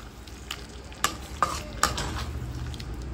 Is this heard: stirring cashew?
yes